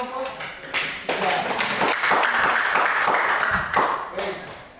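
Classroom clapping for a student group after a physics measurement activity, a burst of hand claps from several people filling about four seconds, fairly close and steady before tapering off.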